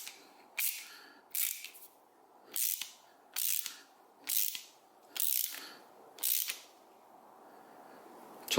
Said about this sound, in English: Now we're going to take the ratchet and tighten.